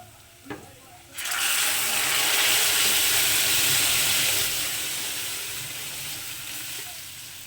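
A soft clink, then a sudden loud sizzle as boiled red lentils and jute greens hit hot oil, hissing steadily and slowly easing off.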